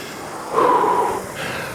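Heavy breathing after a rowing workout, a single loud exhale or snort-like breath near the mic, followed by quieter background.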